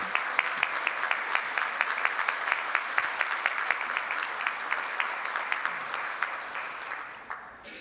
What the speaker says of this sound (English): You needed a round of applause for these people who worked so hard to make this happen.